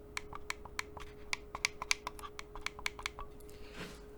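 A Logitech Signature M650 L mouse gives a quick series of about fifteen crisp, close scroll-wheel and button clicks, fairly quiet and with no other sound, ending in a soft rustle.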